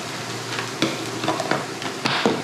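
Egg fried rice with green onions cooks in a hot pan, a steady sizzle broken by irregular scraping and tapping strokes of a spatula, close and fairly loud with no talk.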